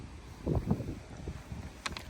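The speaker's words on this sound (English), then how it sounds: "It's a bit windy as well." Low, gusty wind rumbles against the microphone throughout, with faint rustling and a couple of brief higher crackles near the end.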